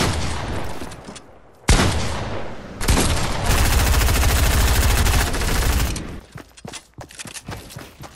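Heavy bursts of automatic gunfire in the video game Fortnite, loud sustained rattling volleys broken by brief gaps, ending in scattered single shots and clicks.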